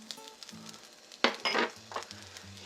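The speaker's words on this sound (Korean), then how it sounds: "주걱으로 밥알을 눌러가면서 뭉치지 않도록 볶아주시고" A spatula pressing and stir-frying rice for shrimp fried rice in a pan gives a few brisk scraping strokes over a faint sizzle, with a low steady hum running beneath.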